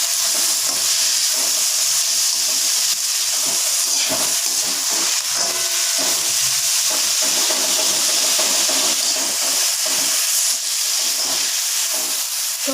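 Tomatoes sizzling and hissing in a hot pan as they are stirred for tomato chutney, a loud continuous frying hiss with occasional scraping and bubbling, no voices.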